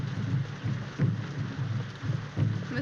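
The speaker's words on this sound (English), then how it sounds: "This rain and those drums." Heavy rain pours steadily as rolling thunder pulses low and close, swelling in several rumbles across the downpour, with no voices.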